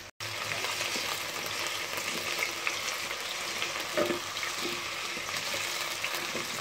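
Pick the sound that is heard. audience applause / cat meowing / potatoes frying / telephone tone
potatoes frying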